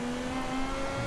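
An F1 race car at the start of a lap produces a brief, steady, high engine whine with a tonal buzz, close and continuous, with no voices.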